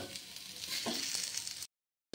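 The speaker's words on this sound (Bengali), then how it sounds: "এবার তাতে আমি ডাটাগুলি কিছুক্ষণ ভেজে নেব" Vegetable stems and potatoes sizzle steadily in hot oil in a pan, with a few stirring scrapes, close and fairly loud, then a sudden cut to silence.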